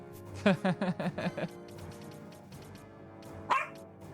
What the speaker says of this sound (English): Zeus, you're literally not even looking at whatever the fuck you think you're barking at